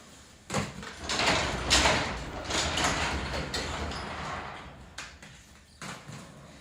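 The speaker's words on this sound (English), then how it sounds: "Sorry, you're gonna have to hear the garage door." A home garage door runs through its cycle, a steady mechanical rumble and rattle lasting several seconds, with occasional clunks and knocks as the panels move along the track.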